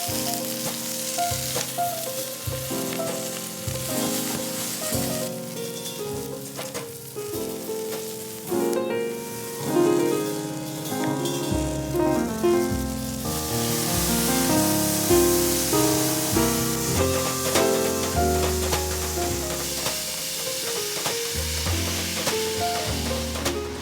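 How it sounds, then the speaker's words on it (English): Scallions sauté in olive oil in a hot pan, a steady, loud, close crackling sizzle that keeps going throughout, with some stirring noise and a fuller, brighter hiss in the second half. "Take a hot pan here, throw some olive oil into it, saute these scallions."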